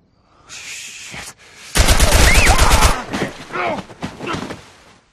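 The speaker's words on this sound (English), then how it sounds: "7 bullets fired." Rapid burst of gunfire in the video game The Last of Us Part 1, about seven loud, closely spaced shots, followed by voices talking.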